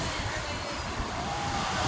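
Rough ocean surf at high tide on a New South Wales beach, a constant broad wash of breaking waves mixed with wind buffeting the microphone, close and unbroken.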